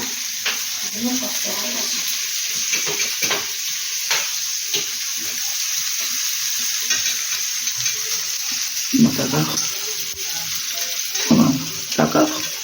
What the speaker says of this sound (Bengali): পেঁয়াজটা ভাজবো বলে কড়াইয়ে তেল বসিয়ে দিয়েছি আমি